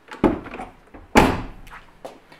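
VW Golf car door locking with the remote key, two loud solid thunks about a second apart with fainter clicks after, close by and clear.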